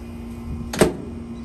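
A single short thud-and-click of a small appliance door shutting, close by, over a steady low hum.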